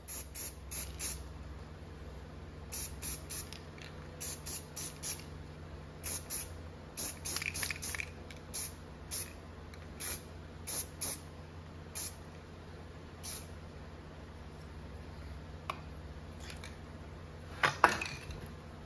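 Black spray paint hisses from an aerosol can onto a hot aluminum bike chainring in short bursts, about a dozen quick close sprays with brief pauses between them.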